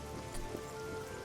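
Rain falling in the fantasy video game Oblivion, a soft steady patter and hiss with no pauses or distinct events, fairly quiet and continuous throughout.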